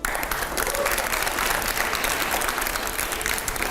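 Loud, dense applause from a studio audience during a televised interview segment, continuous clapping that holds steady throughout.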